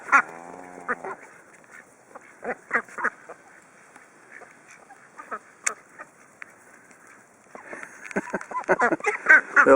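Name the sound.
ducks quacking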